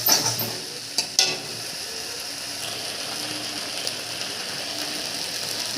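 Spices stir-fried with fried potato and onion in a pan for aloo-begun fish curry, a steady close sizzle broken by a few sharp scraping stirs near the start.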